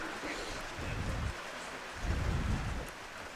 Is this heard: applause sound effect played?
no